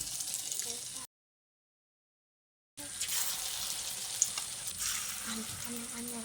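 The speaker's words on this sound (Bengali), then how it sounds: "বাকি বড়াগুলোকেও আমি ভেজে নেব।" Egg and boiled potato fritters sizzle in hot oil with a bright, steady crackle, broken by a short gap of silence before the frying resumes with small pops.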